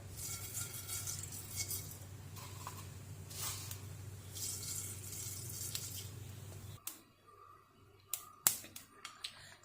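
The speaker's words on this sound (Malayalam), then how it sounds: "കടുക് പൊട്ടി വരുന്നുണ്ട്" Sharp little pops and crackles of mustard seeds spitting in hot coconut oil over a steady sizzle, then sparse louder pops after the hiss drops away.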